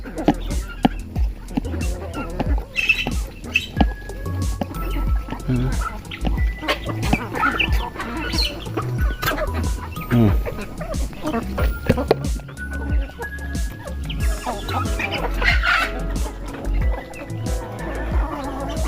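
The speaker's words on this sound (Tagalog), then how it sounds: "ito yung pabo na laki mga lodi oh" Close-up turkey squawks and gobbling calls break out repeatedly while a person talks over the birds throughout.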